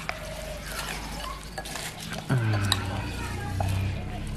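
A Thai spicy cockle salad with fried shallots is tossed in a bowl, giving soft scraping, stirring and light clinks close by, with someone talking over it.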